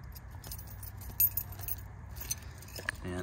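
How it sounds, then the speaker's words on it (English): Original keys for a 1957 Ford Fairlane 500 Town Sedan jangle up close in a light metallic rattle with a few brighter clinks, over quiet background noise. "Ford keys."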